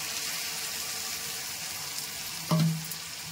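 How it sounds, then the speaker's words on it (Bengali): Spice masala sautéing in a pan with ridge gourd paste, a steady wet sizzle throughout with a brief louder burst as the paste hits the hot pan. "দিয়ে আমি ভালো করে পুরো মশলাটা কষিয়ে নেব। দিয়ে দিচ্ছি ঝিঙে বাটাটা"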